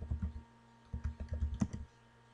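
Bursts of quick keyboard typing on a computer keyboard, close and fairly quiet, a short run of keystrokes followed by a pause and then another clattering flurry.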